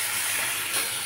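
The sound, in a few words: water added to hot pan of mutton curry, hissing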